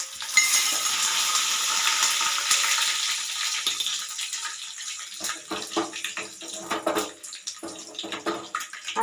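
Dried red chillies and curry leaves hit hot oil already holding mustard seeds and cumin for a sambar tempering. A bright hiss starts it, then settles into a busy crackle of irregular close pops and spits, with no talking.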